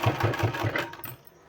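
Sewing machine running briefly while stitching fabric for a palazzo pant, a fast, even mechanical whir with low repeated pulses, moderately loud and close before stopping.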